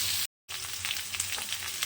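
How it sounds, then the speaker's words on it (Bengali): Onion and potato fry in a pan for a cauliflower and potato posto dish, giving a loud, close, steady sizzle that drops out briefly and then resumes, with no voices. "এবার পেঁয়াজ আর আলুটা লাল লাল করে ভেজে নেব"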